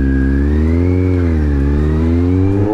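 A Kawasaki Z750 motorcycle with an aftermarket Delkevic exhaust revving steadily with a deep, throaty rumble, its pitch rising and falling slightly, close up and without talk.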